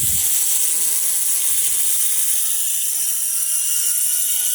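A homemade DC motor with a weak permanent magnet spins freely at 7.4 volts, giving a steady, loud high-pitched whir like a small blender that holds constant from start to finish with no talking.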